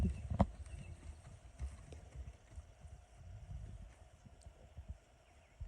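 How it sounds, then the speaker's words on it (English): A horse's hooves clip-clop at a walk outdoors, faint and irregular under wind noise, with one sharper hoof strike near the start. "he's a good horse"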